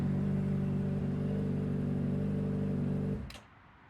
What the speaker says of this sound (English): So now we just let the bike run for 5 to 10 minutes.